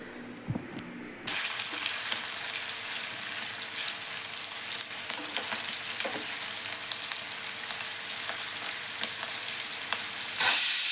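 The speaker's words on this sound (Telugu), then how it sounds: "ఈ కాకరకాయలన్నిటినీ అందులోకి ట్రాన్స్ఫర్ చేసేసుకునేసి మనం నీట్గా మంచిగా ఓపిక్గా మంట సిమ్లో పెట్టేసుకునేసి" After a quiet moment, loud sizzle of bitter gourd frying in a pan starts abruptly and continues steadily over a low flame, with occasional crackles and a brief stirring clatter near the end.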